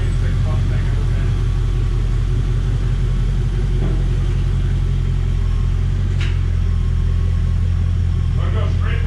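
A 1996 Ford Mustang engine runs loudly and steadily at idle, a deep continuous rumble with a few faint clicks and knocks around it, and some talk in the background.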